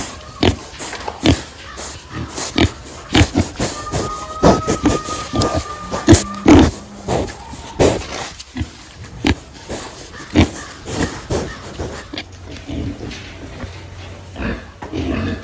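Backyard pigs grunting and oinking close by in a steady run of short, rough snorts and squeals, with a person talking over them at times.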